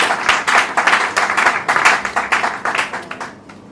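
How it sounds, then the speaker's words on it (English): A small group claps at a graduation ceremony for office administration apprentices, a rhythmic, close round of applause that tapers off toward the end. "A round of applause, please."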